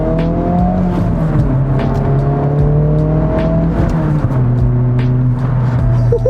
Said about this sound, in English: It's a lot of deep tone, but you don't lose that high revving sound that you get out of